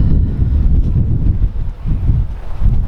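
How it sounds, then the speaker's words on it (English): Strong gusts buffet a microphone outdoors in a vegetable garden planted with Maori potatoes, a loud, continuous roar that rises and falls, with rain approaching. "It's quite windy and there's rain coming in."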